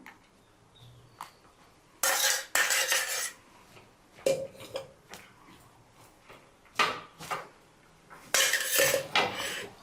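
Food being stirred with ghee in a frying pan: intermittent metal scrapes and clatters of a spoon against the pan, coming in irregular bursts, close and fairly loud, with quieter gaps between.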